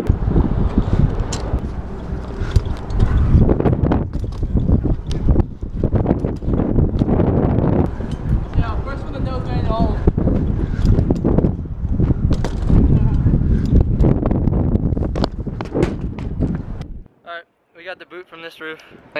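Loud gusting wind buffets the microphone in a constant roar, with brief voices breaking through near the end.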